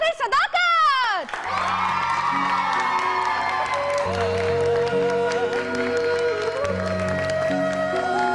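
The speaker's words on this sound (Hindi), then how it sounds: "आपकी बहुत सारी तालियों में हमारे बहुत ही प्यारे आखिरी सदाकत।" Studio audience applause and cheering on a Hindi-Urdu TV show, a sustained wash of clapping and whoops under music, with an announcer's voice rising over it at the start.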